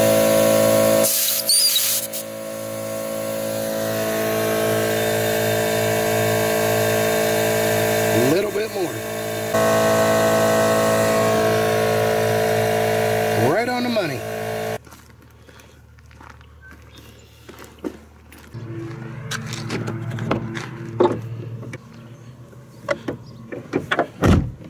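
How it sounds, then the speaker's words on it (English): Air compressor inflating riding mower tires to about 60 PSI: a loud steady motor drone runs for roughly fifteen seconds, then cuts off, leaving quieter hissing, clunks and handling noises. "there goes the compressor."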